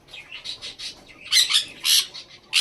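Almond pigeons in a pigeon loft, where a pair has laid eggs again, give short, close squawks and chirps in uneven bursts, growing louder toward the end.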